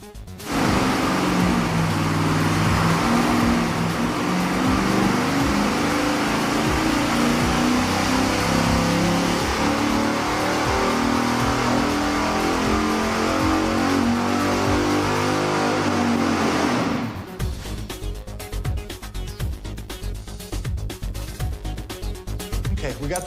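A car engine fitted with short 'Shorty' exhaust headers roars loudly and steadily at high revs on a test setup, then cuts off abruptly, leaving a rougher, quieter background.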